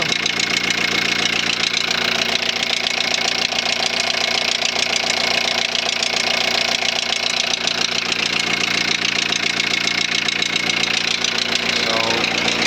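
A Volkswagen Transporter T4 1.9 TDI diesel idles with a steady, continuous mechanical rattle from up in the cylinder head, close and constant throughout, with a speaking voice faintly over the running engine.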